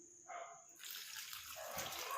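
Tap water runs and splashes as hair dye is washed off hands at a sink, a short close burst of flowing, splashing water that swells after a quiet start, with no talk.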